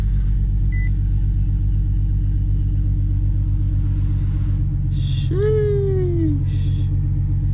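A car engine idles nearby with a steady, deep, loud rumble that holds throughout, and a voice briefly exclaims partway through.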